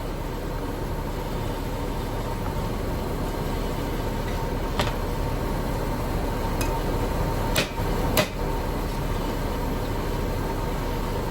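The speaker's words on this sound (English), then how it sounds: "first I'm going to try it with the little hammer so I can be a little bit more precise" A few sharp metallic taps of a small hammer on a metal part of a Subaru Impreza roll cage ring out, spaced apart, two close together near the end, over a steady background hum.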